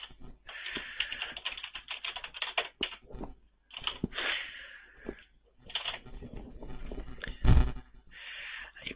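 Rapid clicking keystrokes on a computer keyboard while entering account details for a StumbleUpon signup, coming in several close bursts separated by short pauses, near and fairly clear.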